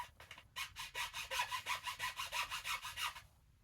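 Steel file cutting nocks into the tip of a yew bow, a run of about a dozen quick rhythmic rasping strokes, close and distinct, starting after a brief pause and stopping cleanly.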